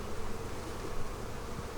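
Honey bees buzz inside an open hive box during an inspection, a dense steady drone that fills the clip, close and even with no talking.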